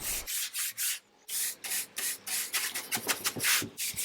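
Rag rubbing black stain onto the inside of an old, rotten wooden cupboard, heard as close, repeated scrubbing strokes in short bursts with a brief pause, no talking.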